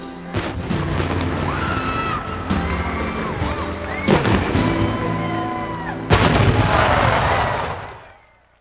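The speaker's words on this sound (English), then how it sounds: "woke up Atlanta with some fireworks" Fireworks burst over Atlanta after a Braves game that ended at 3:55 a.m., a series of booming bangs and crackles at irregular intervals, with a crowd murmuring beneath and a heavy final volley before fading.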